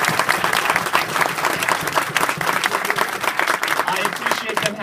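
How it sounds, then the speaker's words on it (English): Loud, steady applause from a crowd at a Brandon Sanderson book signing in a Barnes & Noble bookstore, many hands clapping densely and continuously throughout. "I do also want to give some applause for the store."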